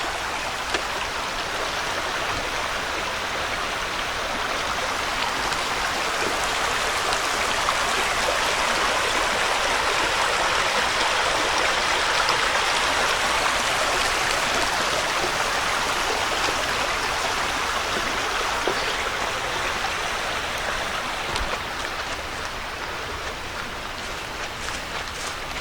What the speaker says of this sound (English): creek crossing here.